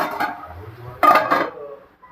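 Chicken fry stirred in a pan after chili powder goes in, a few clinking and scraping spoon-against-pan strokes with one louder scrape midway, no talk over it.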